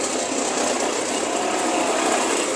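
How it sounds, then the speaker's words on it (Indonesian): Mortar mixer machine (mesin molen) churning soil for brick making, a loud steady mechanical roar with a dense rattling texture, continuous throughout with no talk. "Jadi dengan mesin molen, nah, ini mesin molennya teman-teman."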